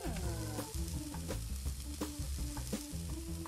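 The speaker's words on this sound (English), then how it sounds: "Fish is cooking." Fish sizzles and fries in a busy cartoon kitchen in the cooking game Cook Serve Delicious, a dense, continuous hiss under bright, rhythmic game music with no talking.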